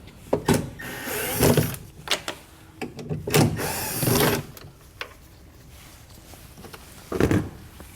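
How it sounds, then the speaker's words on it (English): A power driver fitted with a T20 Torx bit backs out the screws holding a 2015 Ford Transit taillight, short whirring bursts repeating close up with pauses between them. "We'll remove those both with a T20 Torx bit."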